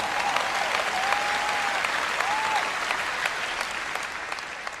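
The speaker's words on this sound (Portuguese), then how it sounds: "Vamos aplaudi-los." Audience applause fills a church or conference hall during a Christian teaching event, steady dense clapping from a large crowd sustained throughout and slowly tapering near the end, with a faint voice briefly heard over it.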